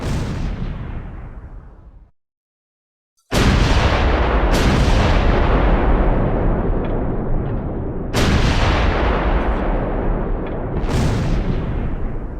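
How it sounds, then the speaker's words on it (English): Mortar counterfire in the Close Combat 4 video game comes as heavy, close, booming blasts with long rumbling decays, arriving in a series of repeated impacts after a brief silence. "Gould's mortar opens a counterfire mission on the Sonderkofferzeug 251x2 8cm mortar half-track."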